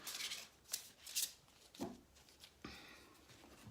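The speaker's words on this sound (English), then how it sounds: "I'm going to do one more shuffle" A deck of tarot cards is shuffled by hand, with a few quiet riffling and rubbing rasps that come close together and are faint, with no speech.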